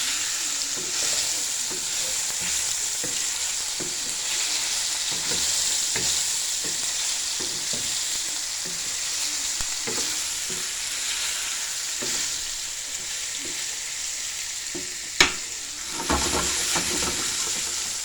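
Food frying flat in a pan, a steady close sizzle that runs throughout, with faint stirring or scraping ticks and a brief sharp clatter near the end.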